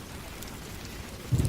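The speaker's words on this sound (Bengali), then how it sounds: "ঝমঝম করে পড়ছিল বৃষ্টি, সঙ্গে বজ্রপাতের গর্জন।" Steady heavy rain from a Bengali horror cartoon soundtrack, a dense continuous hiss with a louder low rumble of thunder swelling in at the very end, no voices.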